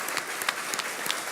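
A church congregation gives a short burst of applause, with rapid, dense clapping at an even level and no voices over it.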